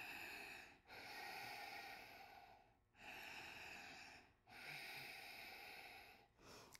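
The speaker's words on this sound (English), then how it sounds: "Find that steady Ujjayi breathing." Steady Ujjayi breathing during a yoga session, slow audible breaths of long hissing airflow broken by short pauses, close and soft, repeating about four times, no talking.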